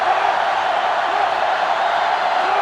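Stadium crowd noise from the NCAA Football 2005 video game during a Michigan vs. Ohio State matchup, a steady, loud, unbroken roar of cheering fans filling the whole stretch with no pauses.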